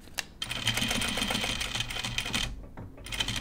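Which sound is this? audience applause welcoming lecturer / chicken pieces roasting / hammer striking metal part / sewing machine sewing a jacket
sewing machine sewing a jacket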